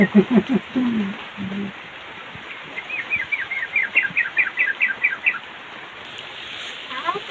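Steady rain falls in a rural village in Tasikmalaya, a constant hiss of drops on surfaces, with birds chirping in short bursts partway through and a few brief sounds near the start.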